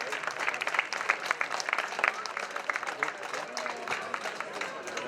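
Applause from a roadside crowd for a cyclist on the podium after a stage of the Essor Breton race, fairly faint, scattered clapping with a public-address voice over it.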